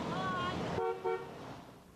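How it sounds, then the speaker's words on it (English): Passing motorists honk car horns on a roadside in Totowa, New Jersey: a sustained toot, then shorter bursts, fairly close. "it's this damn horn blowing that's driving everybody crazy"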